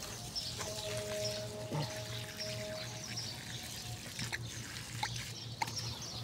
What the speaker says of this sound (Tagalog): Magdilig tayo guys.